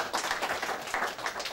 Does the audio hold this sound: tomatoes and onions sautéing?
no